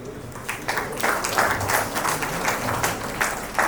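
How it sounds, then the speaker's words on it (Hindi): An audience applauds at a school award ceremony in a college hall, clapping swelling into a steady, fairly loud wash of many hands for several seconds without speech. "कृपया तालियों की आवाज से इनका प्रोत्साहन करते रहे।"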